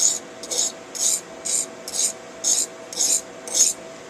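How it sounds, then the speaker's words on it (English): A knife blade is drawn across the fine side of a Norton Econo sharpening stone in eight evenly spaced hissing strokes, close and moderately quiet against a low steady hum. "I'm going to flip over and work the fine side of the stone"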